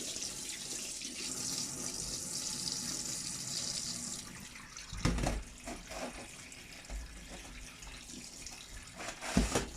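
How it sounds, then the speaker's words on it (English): Cold water runs from a tap in a steady stream, with a few louder splashes and knocks as homemade butter is rinsed and pressed underneath. "You wash it with that water and kind of rinse it through"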